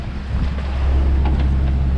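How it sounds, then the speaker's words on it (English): Strong wind roars across a sailboat on the Chesapeake Bay, blowing around 42 knots, with steady low buffeting rumble and gusty wash of water and waves, loud and continuous with no voices. "it was blowing like 42 knots"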